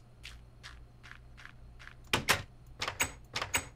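Old door sounds in a modded Minecraft game, a series of soft clicks followed by louder, sharper knocks and bangs in quick irregular succession, close and clear.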